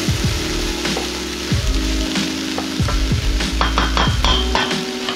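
Vegetables with a little greenery fry in a pan with a steady, loud sizzle. Repeated scraping stir strokes and clinks of a utensil against the pan cut through it, and no one speaks.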